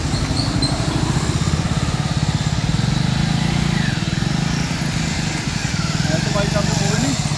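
A motorcycle engine runs in first gear through a turn, putting out a close, steady, buzzing putter, and someone talks over it.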